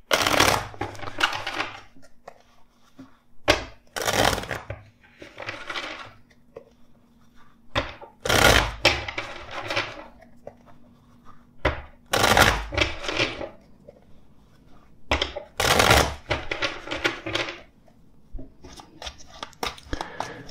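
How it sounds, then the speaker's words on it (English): A tarot card deck being shuffled in several separate bursts, with crisp riffling and slapping sounds close by and short quiet gaps between them. "Let's shuffle the deck four times for you."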